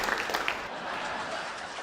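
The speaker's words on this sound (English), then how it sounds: "Give Jessica a round of applause." An audience applauding steadily, a dense wash of clapping that holds at an even level throughout, with a little crowd noise mixed in.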